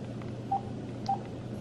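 A phone ringing, heard as two short electronic beeps about half a second apart, close and fairly clear over a low steady room hum, with no talking.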